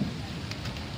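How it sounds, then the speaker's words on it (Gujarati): Soft, steady unseasonal rain falls outdoors in winter, giving a faint, even patter with a few scattered drops and no talking. "હવે શિયાળો આવવાના બદલે વરસાદ ચાલુ થઈ ગયો"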